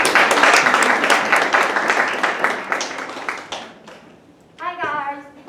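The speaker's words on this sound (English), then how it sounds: "Let's give her a round of applause." An audience in a school English speech contest gives loud, dense applause for the next speaker, fading over a few seconds before a voice begins speaking close by.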